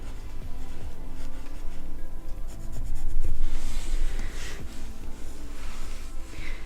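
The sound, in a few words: pencil drawing on paper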